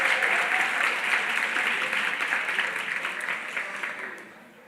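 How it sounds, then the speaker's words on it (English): A dinner audience at a closing reception in Atlanta gives dense, sustained applause for the sponsor Target Corporation. The clapping stays steady and full, then thins and fades toward the end, with no talking over it. "So give Target a big round of applause."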